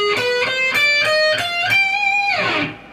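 Electric guitar plays a quick G Phrygian dominant shred lick, a few rapid picked notes stepping upward, then a sliding bend that fades out, clear and close.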